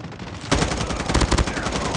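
Rapid automatic gunfire in a Call of Duty multiplayer match, erupting suddenly after a quiet moment into dense, loud, close bursts that continue steadily.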